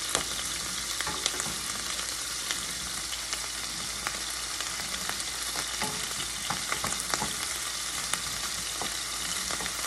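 Garlic sizzles in a pan for adobong kangkong, a dense, even frying hiss that runs continuously with small crackling pops throughout.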